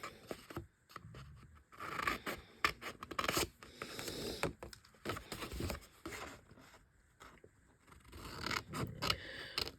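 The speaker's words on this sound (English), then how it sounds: "So get our trusty scissors, and we're just going to cut away the score line." Scissors snipping paper along a score line to form tabs while building an acetate lid box, a quiet run of short, crisp cuts and scrapes with brief pauses between them.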